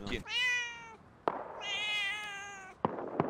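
A domestic cat meows twice, each a long, loud, drawn-out call close by. Brief sharp clicks punctuate the gaps, and there is no talking.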